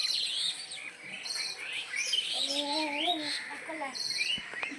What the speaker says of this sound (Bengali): পাখি ডাকছে, কি সুন্দর আওয়াজ হচ্ছে।